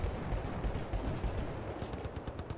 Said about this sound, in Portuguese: Tô atirando.